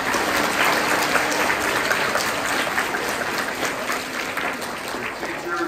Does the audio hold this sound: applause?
yes